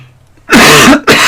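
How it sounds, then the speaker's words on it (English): A man coughs and clears his throat, a short harsh burst followed by a second quick rasp, loud and close with no talk. "A bit of a cough."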